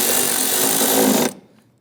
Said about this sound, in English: I'll go ahead and tighten down this bolt